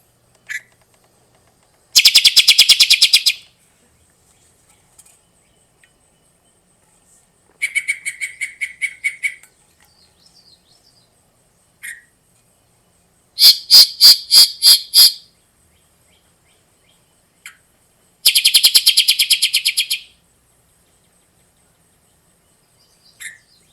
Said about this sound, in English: That's the song of the yellow-breasted chat.